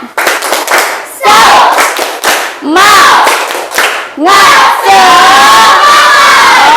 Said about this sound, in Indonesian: Kita tepuk semangat dulu, mau? Oke, yuk tepuk semangat.